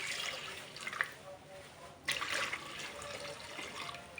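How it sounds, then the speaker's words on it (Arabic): Warm water pours into a bowl for making dough, a steady close splashing stream with a short break midway before the flow resumes. "بالبداية نضيف مي، عندنا هنا مي دافي"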